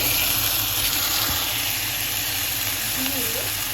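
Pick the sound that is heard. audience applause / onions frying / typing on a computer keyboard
onions frying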